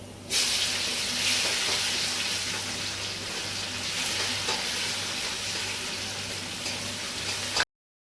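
Dry red chilies crackle and sizzle in hot oil for tempering kalai dal, a close, bright, continuous frying hiss that starts abruptly and runs unbroken until it cuts off near the end.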